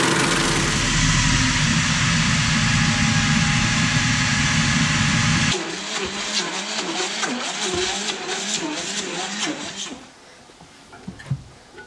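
A food processor chops chicken meat for a pâté, first a loud, steady high-speed whir, then a rougher, uneven churning as the blades work through the meat, winding down near the end; a voice is briefly heard.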